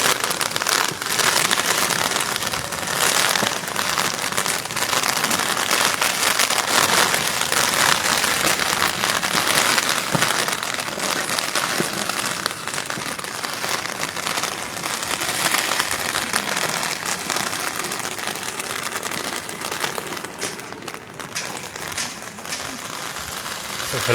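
Light rain falls in Shimla, a steady, dense patter and hiss of drops on surfaces that holds at an even level throughout without a break.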